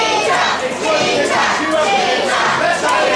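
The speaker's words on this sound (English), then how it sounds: "the crowd are telling him exactly what they think of him." Pro wrestling crowd at a live show loudly jeering and shouting at a wrestler, a dense continuous roar of many voices with no clear individual speech.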